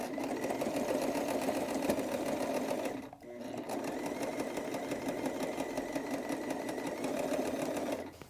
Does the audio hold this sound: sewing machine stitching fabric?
yes